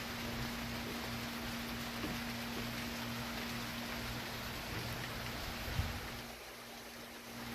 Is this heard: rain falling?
yes